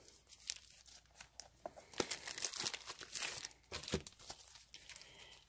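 Packaging of a Stampin' Up card kit is ripped open by hand, giving a quiet, close series of tearing and crinkling bursts of paper and plastic, irregular and clustered, with brief pauses between pulls.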